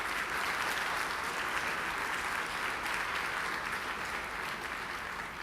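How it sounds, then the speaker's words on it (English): Sustained audience applause at a 2016 conference, a steady dense wash of many hands clapping at close range that holds for several seconds without pause. "so be careful about how much you clap"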